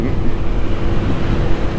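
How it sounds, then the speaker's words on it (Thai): Wind blows against the rider of a moving Lambretta G350 scooter, a loud, steady, unbroken roar buffeting close to the microphone with no speech. "ลมมันพัดตัวผมครับ"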